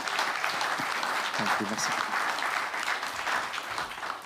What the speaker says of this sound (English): A round of applause for our two speakers,